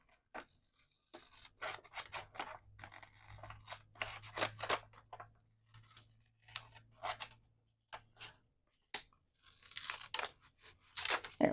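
Scissors cutting paper for envelope pockets, close and quiet, with repeated snipping and crunching strokes in irregular runs, plus a brief low hum partway through.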